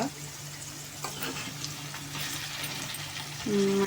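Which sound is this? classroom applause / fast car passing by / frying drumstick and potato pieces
frying drumstick and potato pieces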